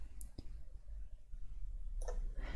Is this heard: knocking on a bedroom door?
no